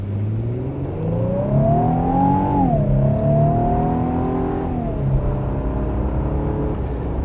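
A 2025 Infiniti QX80 large luxury SUV accelerates hard up to about 55 mph, its engine note climbing steadily in pitch through the gears, dipping at a shift and rising again, loud and continuous from inside the cabin with no talking.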